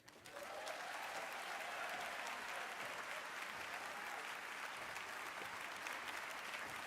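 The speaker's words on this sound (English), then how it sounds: "Let's give him another round of applause, please." A lecture audience applauds in a steady, sustained wash of clapping that rises quickly and holds evenly throughout, filling the room without pause.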